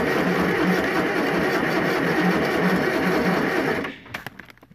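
An Escort tractor diesel with no glow plugs cranks over in winter cold, a steady loud churning drone that cuts off near the end and leaves a few scattered clunks.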